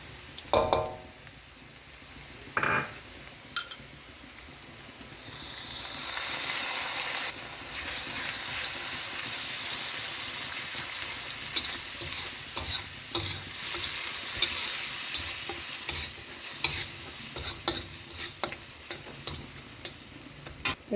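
Masala for Kerang Kam Heong clams sautéing in a pan, with steady frying sizzle and repeated scraping stirs, louder bursts of stirring and clatter through the middle and end.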